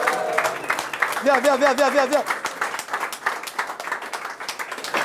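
Crowd applause greets a guest at a dance battle warm-up event, with scattered claps and cheering under a voice and a brief whistle-like tone.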